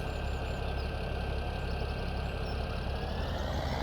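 Tractor engine idling in Farming Simulator 2017, a steady low rumbling drone with an even mechanical throb, constant and moderately loud with no talk.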